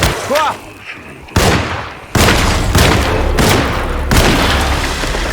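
Several loud, booming gunshots from the Alone in the Dark video game, fired in close succession with long echoing tails, the blasts spaced unevenly across the stretch.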